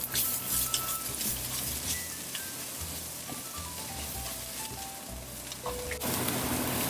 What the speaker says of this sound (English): the other half we let it fry a little bit more